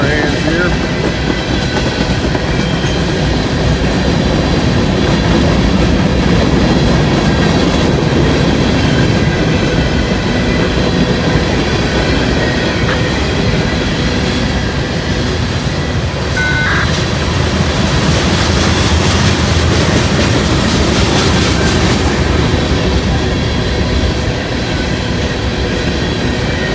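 A long freight train rolls past on the tracks for the whole stretch, a loud, steady roar of wheels and cars with rhythmic clickety-clack and occasional faint squeals, close and continuous.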